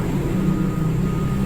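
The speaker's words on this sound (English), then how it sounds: "traffic is heard roaring out the window." Traffic roaring outside a window, a steady broadband rumble of passing vehicles with no clear individual events, moderately loud and continuous.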